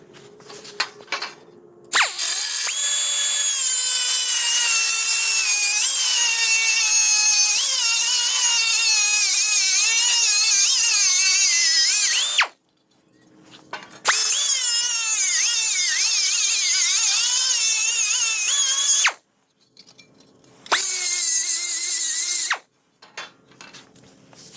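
Cutting off a bolt in a workshop while building mini-tubs in a C-10: a power tool whines loudly and steadily in three bursts, the longest about ten seconds, with brief quiet gaps between the cuts.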